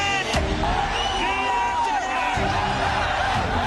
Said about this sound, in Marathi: जंतर मंतरवर अभिजित दिपके आणि CJPच्या कार्यकर्त्यांनी जोरदार जल्लोष केला